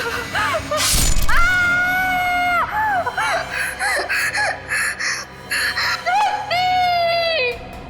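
In a Hindi TV crime drama, a woman lets out two long, piercing screams, the first rising and sustained, the second later and slightly shorter, with gasping and broken vocal sounds between them.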